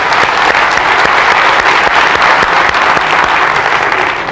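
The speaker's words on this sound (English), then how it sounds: "Let's give her a big round of applause." Close, loud audience applause filling a room, dense steady clapping that holds evenly throughout and tapers slightly at the end.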